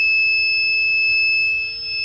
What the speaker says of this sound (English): So while I have the key on, you'll hear that buzzer going off.